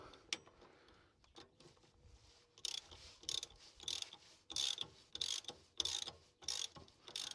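Ratchet wrench tightening 24mm bolts on an anti-roll bar of a Land Rover Defender, quiet clicking at first, then a run of sharp, evenly spaced ratchet bursts, close by.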